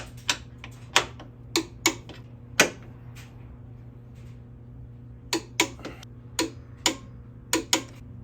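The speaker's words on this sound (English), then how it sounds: "So we're gonna torque this down to a good old 60 foot-pounds of torque." A torque wrench tightens bolts on a Mazdaspeed to 60 foot-pounds in a crisscross pattern, giving sharp, distinct clicks in small clusters, about a dozen over several seconds, close by with faint background hum.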